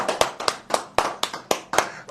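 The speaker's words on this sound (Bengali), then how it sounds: "আরে বাবা হাততালি হোক একটা" Hands clapping at a textile family's language day celebration, a brisk even series of about eight close claps in steady rhythm.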